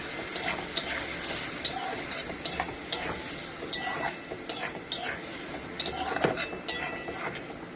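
Spice paste and crushed ginger are stirred in a frying pan for a Bengali prawn and taro stolon dish, with a spatula scraping and clinking against the pan in irregular strokes over a steady sizzle of frying.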